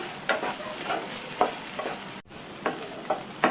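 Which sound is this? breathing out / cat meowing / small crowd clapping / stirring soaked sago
stirring soaked sago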